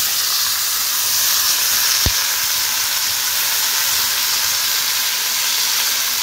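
Green chili and potato curry fries in a hot wok tempered with nigella seed and asafoetida, giving a steady loud broadband sizzle with one sharp knock partway through.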